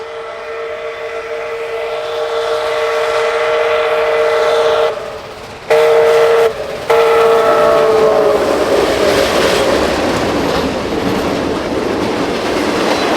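Canadian Pacific 2816, a steam locomotive, rolls past close by with a loud, steady rumble and clatter. Its whistle sounds in long tonal blasts with brief gaps, then fades into rushing noise.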